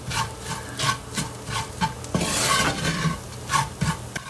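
Kashmiri chili powder being stirred into a sauté for Kerala-style prawn curry, a spoon scraping and rubbing rhythmically against the pan with a faint sizzle underneath.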